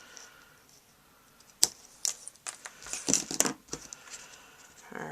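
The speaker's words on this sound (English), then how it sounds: "Let me get my ribbon scissors." Ribbon scissors are handled at a crafting table, giving scattered metallic clinks and rattles that start faint and quiet, then come in a busier cluster of sharp clicks and jangles near the end, with no talking.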